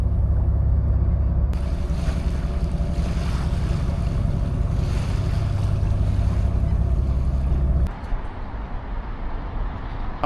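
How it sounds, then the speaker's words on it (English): Boats and lapping water in Helsinki Harbour, heard as a steady outdoor wash of waves and low engine rumble with strong wind buffeting the microphone, ending abruptly in a quieter stretch. "Here we are back in Helsinki Harbour"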